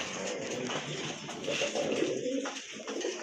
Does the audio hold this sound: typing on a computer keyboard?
no